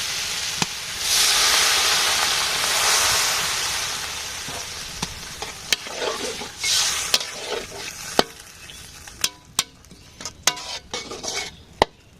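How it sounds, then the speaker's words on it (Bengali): Water poured into a sizzling spice mix in a frying pan, with a loud hiss and steamy crackle up front, then stirring and sharp clinks of a utensil against the pan. "কষানো হয়ে গেছে এখন জল দিয়ে দেবো"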